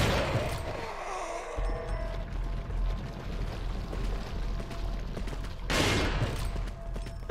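Shotgun blasts in Resident Evil 4, with a couple of heavy, booming shots standing out against a murky, rumbling game background.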